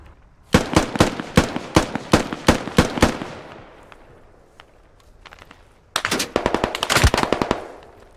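Gunfire in the video game Squad, close and loud, first a rhythmic series of single shots, then a dense rapid burst after a short lull.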